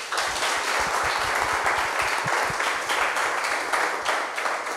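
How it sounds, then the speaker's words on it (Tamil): A studio audience at a televised dance competition applauds steadily throughout, a dense, continuous wash of clapping with a few sharper individual claps standing out near the front. "உங்களுக்கு பெரிய கைத்தட்டல் கொடுக்கணும் கண்டிப்பாக."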